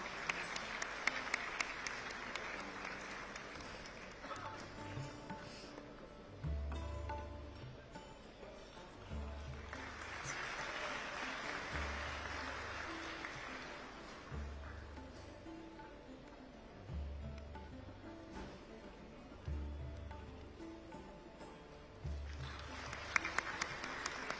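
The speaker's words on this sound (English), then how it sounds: "A round of applause." Audience applause at a National Startup Day event at Jio World Centre, a broad wash of clapping that swells and fades in waves under steady background sound, moderately distant.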